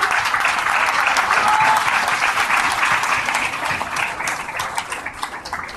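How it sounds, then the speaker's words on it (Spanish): An audience at a public event breaks into applause, a dense, steady wash of clapping that holds strong and then slowly thins toward the end. "Le quiero dar un fuerte aplauso,"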